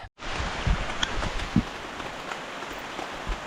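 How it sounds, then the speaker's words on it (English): Heavy rain pours down at night in a jungle, a steady dense hiss of drops hitting foliage and surfaces, with a few louder nearby drips and thumps standing out against the constant downpour. "it started raining pretty damn heavy"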